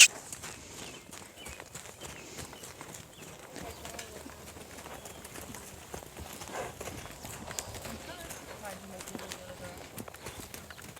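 Hooves clip-clop steadily from a horse being lunged at a Fourth of July gathering, a continuous rhythmic patter of moderate loudness, with people talking and birds chirping faintly in the background.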